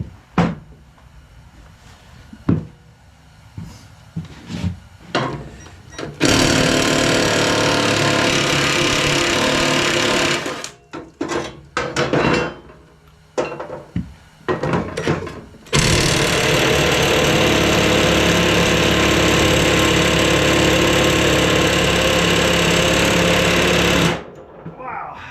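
A power tool takes the blades off an old lawn tractor mowing deck, with two long loud bursts of rattling, hammering impact driving and short clanks and knocks between them.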